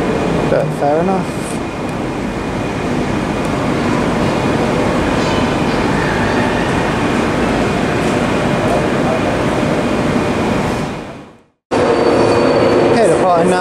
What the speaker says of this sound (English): departing now is the 1530 LNER service to London King's Cross, starting here at Edinburgh